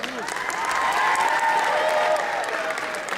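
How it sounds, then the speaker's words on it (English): Short burst of audience applause after a junior dance performance, a continuous wash of clapping with some cheering, fairly loud and even throughout. "let's give them a big round of applause."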